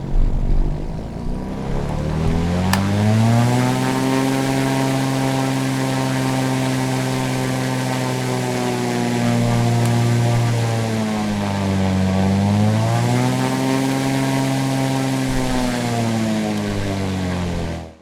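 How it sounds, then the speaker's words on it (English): A Piper PA-28 Turbo Arrow's piston engine in a flight simulator drones loudly and steadily, its pitch dipping and rising again as it revs, with no voices. "you can hear the engine, and what I will do is I will rev that up a little bit for you"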